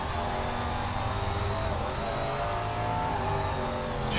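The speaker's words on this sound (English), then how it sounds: "You can hear me really gas it up there off the corner to try to get to his inside" A Super Late Model race car engine in the SRX racing game, revving hard off a corner at Eastern Hills; a steady, fairly faint roar that builds slightly over several seconds, with no talking.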